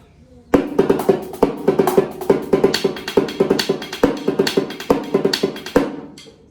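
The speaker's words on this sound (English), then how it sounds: "It's known as a paradiddle." Quick alternating drum strokes roll in a steady paradiddle sticking pattern, crisp hits with sharp accents repeating for several seconds, close and clear.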